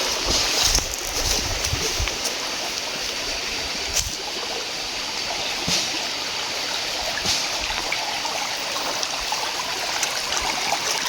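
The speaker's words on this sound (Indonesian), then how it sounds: "Oh, ini sungainya ada dua arah ya." A small river streams steadily past on a hillside near rice fields, a constant broad rushing wash with no voices and a few faint knocks.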